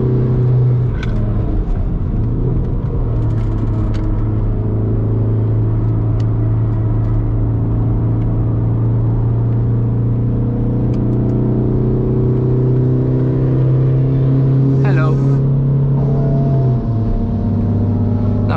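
Underpowered car engine droning steadily through a lap, a loud, even, low hum with slight pitch shifts and a brief change near the end, no talk.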